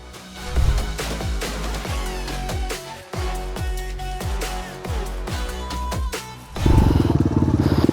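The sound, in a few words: weak motorcycle engine struggling on obstacle course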